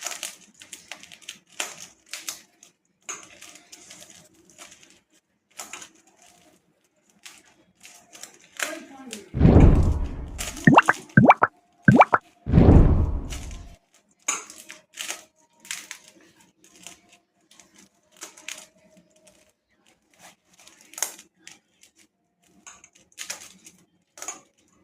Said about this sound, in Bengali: এরপর আমি সবগুলো ভালো করে হাত দিয়ে মেখে নেব।